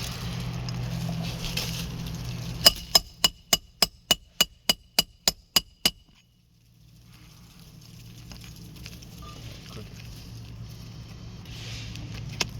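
A nail puller is worked under a roof shingle to reach a nail, giving a run of about a dozen evenly spaced sharp metallic taps at close range, followed by quiet outdoor background.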